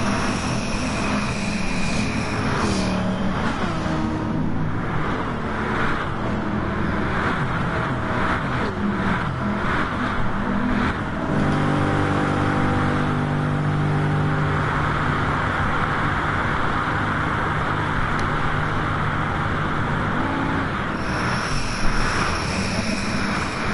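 Sustained loud engine drone of a Bugatti race car on the La Sarthe circuit in a racing game, held steady with shifts in pitch as the driver short shifts, no talking over it.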